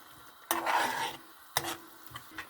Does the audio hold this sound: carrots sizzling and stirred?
yes